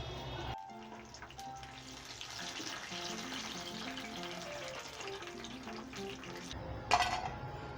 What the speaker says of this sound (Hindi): ये हमारे फ्राई हो चुके हैं